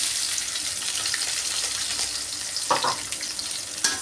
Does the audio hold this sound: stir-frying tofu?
yes